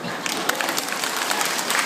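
Audience applause at a political speech on universal health care by Senator Loren Legarda, held at midday in the heat: a dense, steady wash of many hands clapping that holds for about two seconds.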